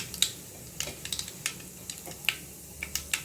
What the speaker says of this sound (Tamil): இதில் தாளிக்கிற பொருளெல்லாம் சேர்த்துக்கிறோம் இப்போ பாருங்கள் நல்லா பொரிஞ்சிக்கிட்டு இருக்கு